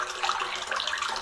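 Water pours steadily into a concrete-bottomed tire tank waterer, a soft, close splashing and gurgling that runs on alone without a break.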